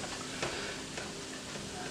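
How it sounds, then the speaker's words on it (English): Mushrooms and onions fry in a pan with a faint, steady sizzle, broken by a couple of soft scraping stirs. "Now we're going to let that fry up."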